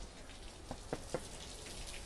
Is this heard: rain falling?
yes